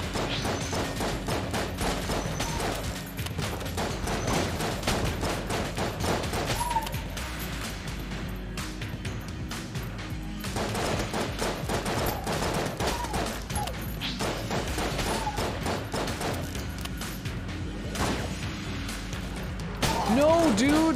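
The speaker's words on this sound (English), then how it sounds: "This guy doesn't shoot right at me. He shoots kind of around me." Enemy gunfire in the dungeon-crawler game Enter the Gungeon crackles in steady bursts, dense layered shots and impacts running nearly continuously at close range beneath game music, with a louder flurry near the end.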